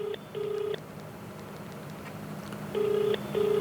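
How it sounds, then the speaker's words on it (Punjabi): An outgoing phone call rings unanswered, a faint electronic ringback tone repeating in two-part bursts separated by a pause over low background hum. "ਫੋਨ ਫਿਰ ਮਿਲਾ ਰਹੇ ਹੈਗੇ ਆ ਗੱਲਬਾਤ ਕਰਨ ਦੀ ਕੋਸ਼ਿਸ਼ ਕਰਦੇ ਹੈਗੇ ਆ ਫੋਨ ਪਿਕ ਨਹੀਂ ਹੋਇਆ ਉਹਨਾਂ ਦਾ"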